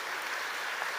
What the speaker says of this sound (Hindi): जोरदार ताली बजा के स्वागत करो बेटियों का